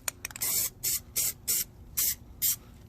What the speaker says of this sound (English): all you do now is spray in there